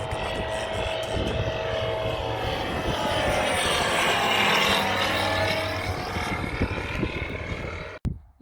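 A small propeller airplane flies a go-around after a landing attempt, its engine a steady close drone with a rising, swelling pitch through the middle before ending in a sharp click.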